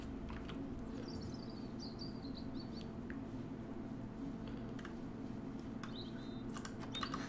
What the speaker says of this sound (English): Lovely sounds of birds chirping.